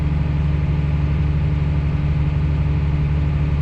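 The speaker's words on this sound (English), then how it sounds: "I'm not liking how the motor is sounding on this thing" A planter's motor runs steadily and loudly up close, with a constant low mechanical drone that holds without letup; the machine is being used for planting early beans and its motor sounds troubling.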